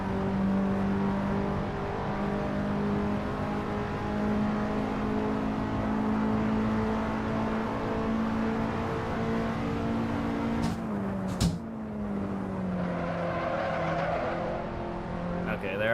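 A race car in a racing video game laps the Roebling circuit, its engine note steady and droning, then dipping and shifting near the end with a brief tire scrub, while someone talks over it.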